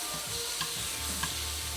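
Wild-caught shrimp sizzle in a hot pan as they are flipped, a dense continuous frying crackle with soft scrapes and taps from the turning, close and fairly loud.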